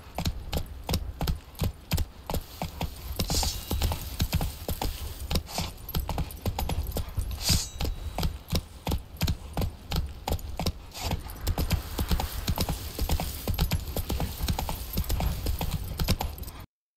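Horse hooves in The Witcher 3 clatter in a steady galloping clip-clop rhythm throughout, loud and close, with game ambience behind and no speech.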